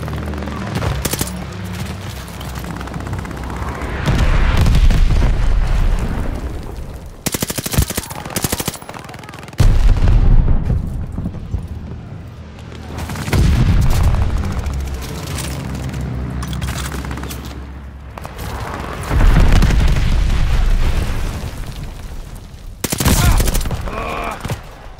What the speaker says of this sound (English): Bombing run inbound.